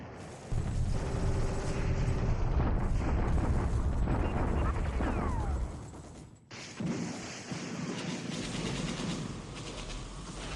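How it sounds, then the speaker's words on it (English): Artillery bombardment in the War in the Pacific strategy game: heavy booming explosions and rumbling blasts over several seconds, then a brief drop to near silence and a quieter rumble afterward, with some talk mixed in. "another bombardment"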